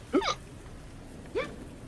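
Two distinct hiccups about a second apart, close and moderately loud against a quiet room background, with no talking in between.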